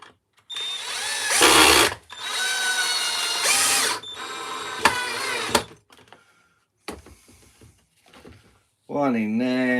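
A power drill drives a couple of screws during a beginner woodcarving project: two loud, sustained whirring bursts up close, a few shorter rattling spurts, then a person speaks.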